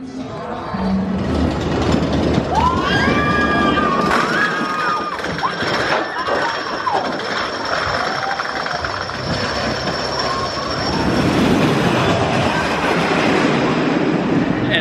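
A roller coaster ride on the Mind Blower at Fun Spot in Kissimmee, Florida: loud, continuous rumbling of train wheels on track with high squeals, steady roar throughout, some faint voices mixed in.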